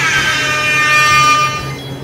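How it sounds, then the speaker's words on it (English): A loud, sustained horn blast with a bright, brassy buzz, holding steady for about two seconds before tapering slightly. "so I'll just use the reggae air horn."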